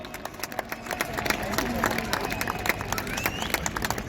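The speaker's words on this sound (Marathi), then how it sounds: "जोरदार टाळ्या झाल्या पाहिजेत" A crowd claps steadily at a public felicitation event, dense rapid hand-claps blending into a continuous wash of applause with faint voices and crowd murmur beneath.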